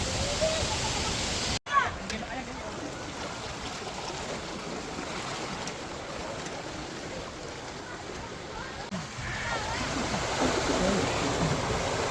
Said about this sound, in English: this is the river that flows from the waterfall we just saw